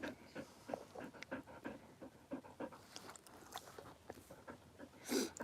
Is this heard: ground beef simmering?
no